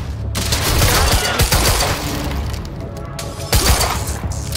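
Rapid, dense gunfire from the action game Quantum Break, with overlapping shots and sharp bursts crackling continuously through the whole stretch, loud and close.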